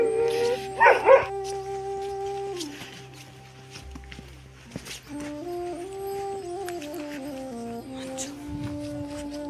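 Dogs at a dog centre in Namche Bazaar give a few barks and yips among a busy, mixed outdoor soundscape, fairly close at first and then fading under steady background tones and faint voices.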